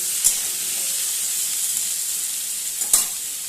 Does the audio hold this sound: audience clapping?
no